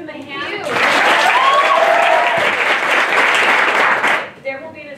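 Audience applause closing a master class performance, a dense wash of clapping that swells quickly, holds steady for about three seconds, then fades, with voices heard at the start and end.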